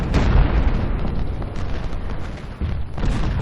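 Booming cannon fire of grape shot in the Civil War strategy game Ultimate General, a loud cluster of overlapping blasts and rumbling bursts that rolls on without a break.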